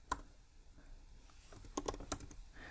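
Computer keyboard typing as HTML code is written, with a few sharp keystrokes near the start and a quick cluster of clicks toward the end over a quiet background, no voices.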